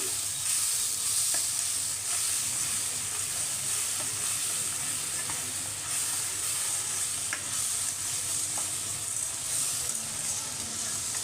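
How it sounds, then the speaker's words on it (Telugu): Chicken frying in a pan for a drumstick chicken curry, a steady, dense sizzle that holds at an even level throughout, with occasional faint pops and no voices. "ఇది బాగా వేగాలండి మనకి ఇది ఎంత బాగా వేగిపోతే మనకి చికెన్ అంత టేస్టీగా వస్తుంది"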